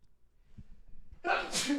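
One sharp, loud sneeze bursts out after a few faint breaths and quiet rustling, close to the listener.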